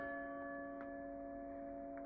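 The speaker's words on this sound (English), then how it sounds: "So the bell calls him back." A bell in the video game Resident Evil 4 rings with steady sustained tones, strikes recurring at a regular pace over a quiet game backdrop with no talk.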